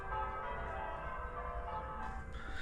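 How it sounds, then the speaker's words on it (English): Distant church bells ring in the background, a faint sustained metallic tolling with no talking. "You might hear church bells in the background."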